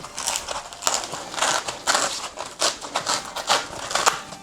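Dense foam being peeled and torn out of a Makita Makpac case insert, a run of scratchy, crunchy rips in quick irregular bursts, close and fairly loud with no talking.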